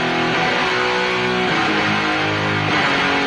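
Two distorted electric guitars play together, forming a dense, continuous wall of crunchy rock chords at moderate loudness.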